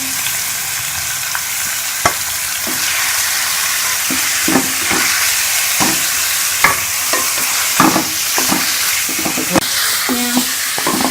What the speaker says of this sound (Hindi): अब मैं इसके अंदर ये मटन डाल दूंगी और इसको कलर चेंज होने तक फ्राई कर लूंगी